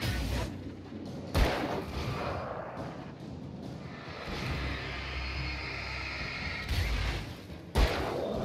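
Gunfire in the video game Alan Wake during a fight in dark woods, with a couple of sharp, loud shots standing out from a dense rumbling game soundscape.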